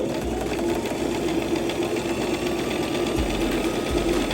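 A sewing machine runs steadily, stitching fabric for tutu anklets and ruffle socks, with a continuous fast mechanical whir and rattle, close and fairly loud, with a brief change in pace near the end.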